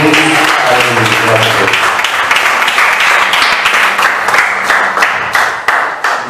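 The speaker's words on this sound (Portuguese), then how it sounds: "uma salva de palmas a Jesus" A church congregation applauds loudly and continuously, a dense wash of clapping with voices mixed in at the start.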